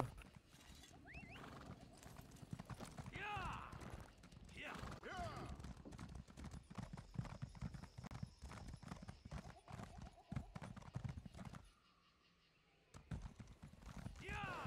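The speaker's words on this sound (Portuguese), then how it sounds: "Cavalo." Horse hooves clip-clop steadily in The Elder Scrolls Online while someone talks over the ride throughout; the hoofbeats run nearly continuously, briefly dropping out near the end.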